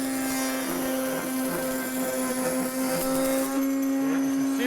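A large-diameter router bit spinning around 12,000 to 14,000 RPM whines with a strong steady tone as it cuts a wood pattern on an arch raised panel door, loud and close, with shifting grinding texture as it bites the wood.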